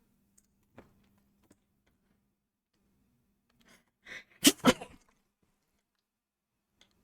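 A single sharp sneeze bursts out close by during a quiet tabletop role-playing game session, two quick loud blasts of breath after near silence, with a few faint clicks before and after.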